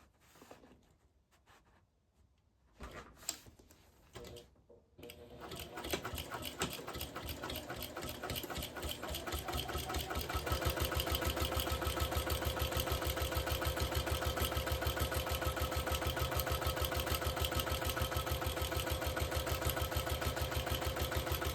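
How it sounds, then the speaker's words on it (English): Sewing machine stitching along the bottom edge of a tote bag: soft handling noises at first, then a steady rapid whirring stitch that settles into a constant close, loud hum for the second half. "we are going to sew along just this bottom edge to start"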